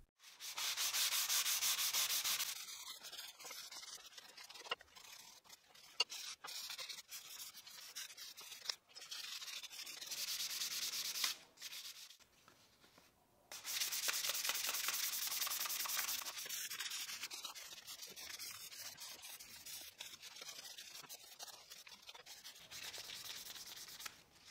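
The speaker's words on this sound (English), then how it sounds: "I'll sand everything manually, first using 320 grit sandpaper and then 360" Wood being hand-sanded with fine 320 then 360 grit sandpaper, a steady broadband rasp in long strokes with short pauses between bursts, close and alone.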